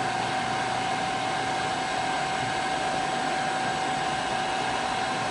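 A Studer S20 CNC universal cylindrical grinder moves on its ball screws, giving a steady, even mechanical whir with a constant tone that carries on unbroken throughout.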